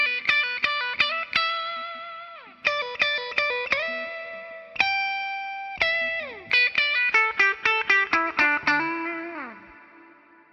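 A 2024 Gibson Les Paul Standard 60s electric guitar with a mahogany top, played on its 60s neck pickup through effects: picked melodic phrases with bends and slides, chorus-like shimmer and echo, clear and prominent, no talking.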